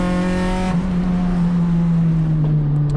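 An Acura RSX race car engine on track heading into a turn, a loud, sustained high-revving drone heard from inside the car, with pitch dipping slightly as it lifts off.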